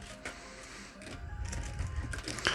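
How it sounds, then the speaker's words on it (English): Treads of a Raspberry Pi tank robot chassis rolling along under tension, a close mechanical whir and clatter with motor whine that rises and falls in short bursts, no talk. "It does make a little bit of noise when it rolls along, but you would expect that with the tension on the tread."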